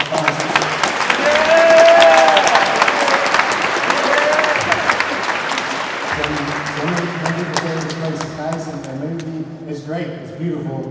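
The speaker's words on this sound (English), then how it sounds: "So, round of applause for the sponsors" Loud, dense applause from a large audience at a youth program's end-of-summer celebration, swelling early then tapering into a steady patter as music or voices emerge underneath.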